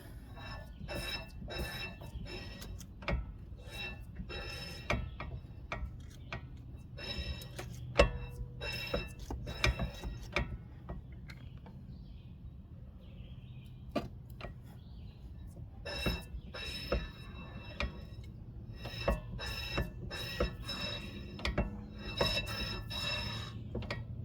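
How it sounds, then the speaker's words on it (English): Rear brake caliper's emergency parking brake lever being cycled by hand, a quiet series of scraping, rubbing and clicking metal sounds at an uneven rhythm, close up and faint, with no speech. "we're going to cycle this emergency brake"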